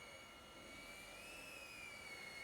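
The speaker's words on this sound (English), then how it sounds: "So, the drone seems to fly very nice." A small 1.6-inch Geprc Darkstar 16 cinewhoop drone in flight gives off a steady, high-pitched motor and propeller whine that holds constant and close throughout, with no talking.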